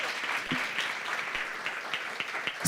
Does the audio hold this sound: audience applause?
yes